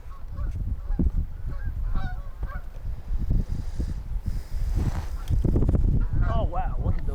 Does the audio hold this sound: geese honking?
yes